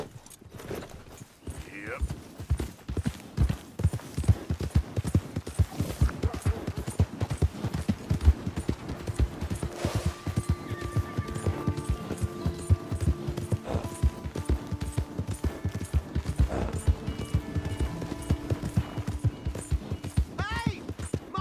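Horse hooves clip-clop steadily in Red Dead Redemption 2, a close, continuous rhythmic gait lasting throughout, with voices talking over it and occasional game sounds layered in.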